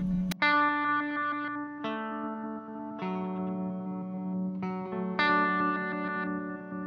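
A Meris LVX delay pedal set to forward direction repeats a few plucked, tonal notes, each ringing out with a trailing delayed tail and a slightly gritty edge, moderately loud with no talking.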